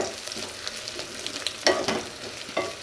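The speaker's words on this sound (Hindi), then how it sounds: "तो जनाब यहाँ पर हमारे प्याज जो हैं वो गोल्डन ब्राउन हो चुके हैं।" Onions frying to golden brown in a pan, a dense crackling sizzle with quick stirring scrapes and a couple of louder clatters, close and steady.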